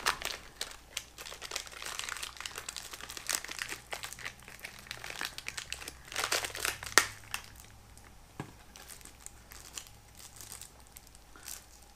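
Crinkly plastic wrapper of a military MRE high energy bar, a bag inside a bag, being handled and torn open; busy close rustling and crackling bursts that ease off and turn sparse toward the end.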